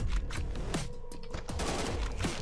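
Rapid automatic gunfire from a golden gun in a video game, a dense continuous burst of shots filling the short moment at steady loudness, with no talking.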